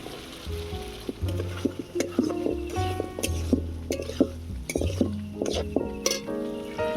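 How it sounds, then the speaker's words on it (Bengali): Potatoes and peas sautéing in spiced oil for ghugni, a steady close sizzle with a spoon stirring and scraping the pan and occasional metallic clinks. "আলু আর মটরটাকে ভালো করে কষিয়ে নেব।"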